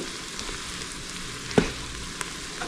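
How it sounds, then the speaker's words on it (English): Herbs and onions fry in a pan with a steady close sizzle, broken by a sharp clink of a utensil against the pan and a few soft stirring sounds. "now we're going to fry off our herbs"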